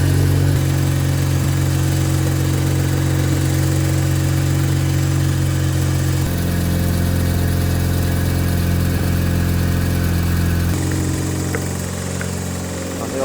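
A rebuilt rotary engine in a JDM car runs steadily at idle with a loose exhaust bracket rattling, a loud, close, continuous drone that shifts pitch slightly partway through.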